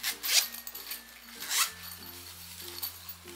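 Two quick zipper pulls on a Hello Kitty planner pouch, a short rasping zip followed by another, close and fairly quiet, with faint tonal hum underneath.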